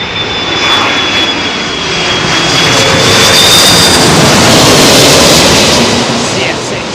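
A Delta jet airliner with old CF6 engines arriving on runway 27L at London Heathrow, a loud close broadband roar and whine that swells and holds steady through the passage, with some talk underneath.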